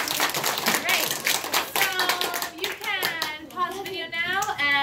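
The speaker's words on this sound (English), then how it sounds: "Give a round of applause." Children in a fourth-grade class clap together in a brisk burst, with overlapping voices and chatter rising over and after the clapping.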